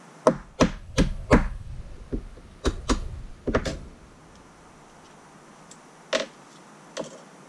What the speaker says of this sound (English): I could also use this punch to cut circular pieces of plastic out